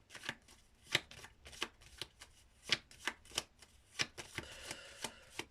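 Tarot cards are handled and laid down during a reading, a close series of soft, crisp snaps and slaps in an irregular rhythm, with no other sound.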